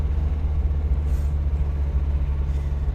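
A 1990 Mazda Miata engine idles with a steady, low, clattering rumble much like a diesel, heard close and continuous with no talking.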